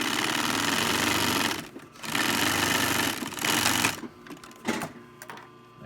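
A sewing machine stitches the sleeve of a wool shirt made from a Hudson Bay blanket, running in three fast, buzzing bursts of varying length separated by short pauses, close and loud.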